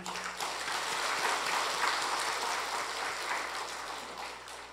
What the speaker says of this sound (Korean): 우리 다시 한번 박수.